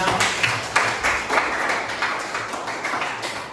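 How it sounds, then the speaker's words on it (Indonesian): A small group claps together in a brief, uneven burst, with sharp individual claps standing out, fairly close and loud. "berikan tepuk tangan untuk kelompok 3"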